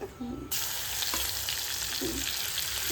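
Ginger and garlic hit a hot pan with a sudden burst of sizzling, then fry close up in a steady, loud hiss that swells briefly now and then as they are stirred.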